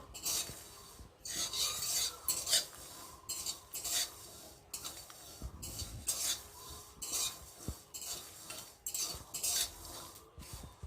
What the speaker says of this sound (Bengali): রসুনটা একটু ভালো করে ভেজে নেবো